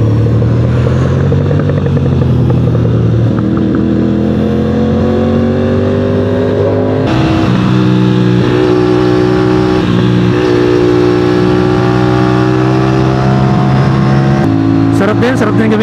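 An Aprilia RS457 motorcycle engine revs loud and close while riding, its pitch climbing steadily through the gears with a brief drop at a shift before rising again. The engine runs continuously.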